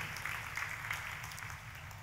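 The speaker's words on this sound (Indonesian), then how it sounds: "Ayo sekali lagi tepuk tangannya pula yang paling meriah buat Tuhan kita." A church congregation claps for God during a service, a steady dense wash of many hands heard from a distance at low volume, with no one talking over it.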